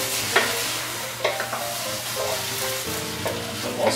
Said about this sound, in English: So once that's basically scrambled egg like that there, then you can fold it into your noodles.